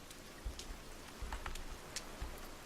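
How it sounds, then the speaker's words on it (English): Steady soft rainfall in the survival video game The Forest, a quiet, even hiss with a few faint low thumps, no voices. "Now that I realize it's raining"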